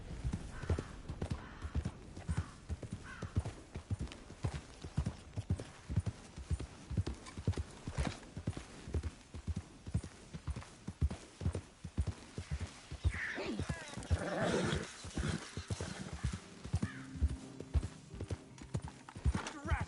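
Horse hooves clip-clop in a steady riding rhythm in the Red Dead Redemption 2 video game, with a horse's whinny and brief voices mixed into the clear, continuous trotting.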